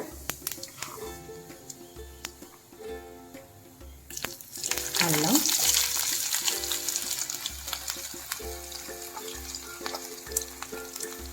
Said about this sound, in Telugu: పచ్చిమిర్చి ఈ పచ్చివాసన పోయేదాకా వేయించుకోవాలి